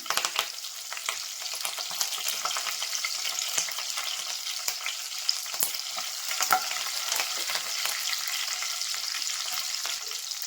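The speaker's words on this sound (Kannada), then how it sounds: "ಸಾಸಿವೆ ಹಾಕ್ಕೋತಾ ಇದ್ದೀನಿ ಹಸಿ ಮೆಣಸಿನ್ಕಾಯಿ ಹಾಕ್ಕೋತಾ ಇದ್ದೀನಿ ಕರ್ಬೇವಿನ ಸೊಪ್ಪು ಹಾಕ್ಕೋತಾ ಇದ್ದೀನಿ" Mustard seeds, green chillies and curry leaves crackle and sizzle steadily in hot oil for a North Karnataka girmit, a dense continuous frying hiss with sharp popping spatters throughout and no talk.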